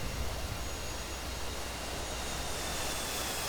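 An F/A-18C jet in the DCS flight simulator roars past at night, a broad, loud engine rush that holds steady across the whole moment without speech.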